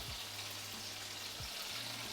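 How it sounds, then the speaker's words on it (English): Duck fat sizzling in a pan while duck is fried, a steady broadband crackle and hiss holding level throughout, with a low hum and a couple of faint knocks underneath. "Sizzling's a little out of control over here"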